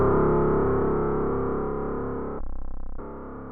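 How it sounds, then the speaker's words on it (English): A simple synthesized tone built from a square wave modulated by a sine wave, slightly detuned with stereo spread, holds a steady buzzy, distorted drone that fades slowly, then shifts to a brighter, pulsing pitch briefly before settling lower. "square wave modulated by sine wave"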